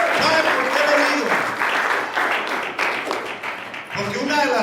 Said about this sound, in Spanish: ¿Cuántos dan un aplauso al Señor?